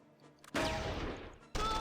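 Gunfire in the Close Combat 3 war game, rounds from an anti-tank team striking tanks: a burst of loud shots with a ringing ricochet, a short pause, then another loud burst, with no talking.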